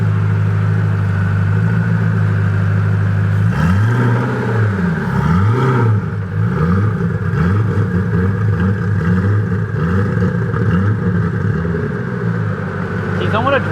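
Koenigsegg CCXR Trevita supercar engine revving up and down repeatedly in a steady rhythmic series of loud close revs over a constant idle drone, with people talking nearby.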